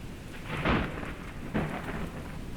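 A thunderstorm with steady rain: a continuous wash of rainfall broken by two deep rolling thunder cracks, heard without any voices.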